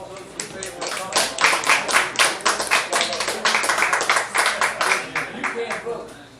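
A room full of people in a Republic of Texas Congress session claps hands in favor of a vote, a loud, dense burst of rapid applause lasting several seconds.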